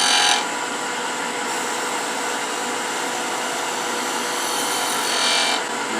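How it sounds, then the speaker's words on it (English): A wood turning tool rides the bevel and cuts into spinning wood on a lathe, a steady, close, continuous scraping hiss that holds for about six seconds with slight swells at start and end. "Lift the handle till you engage the wood."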